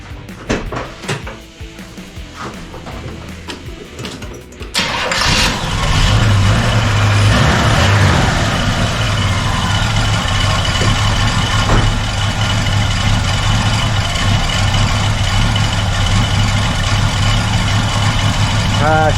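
A 1976 Chevy Nova engine, just after an oil change, cranks and catches at about five seconds, then settles into a loud, steady cold idle that runs on alone; a few clicks and clatter come before the start.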